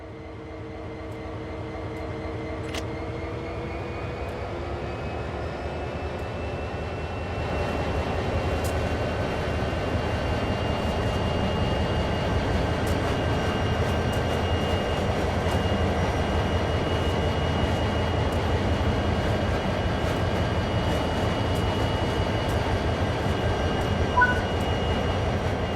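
SD40 diesel locomotive in the Train Sim World game, set at Clinchfield, powering up: a steady low engine drone with tonal whine that swells and thickens partway through, then holds at a constant loud level.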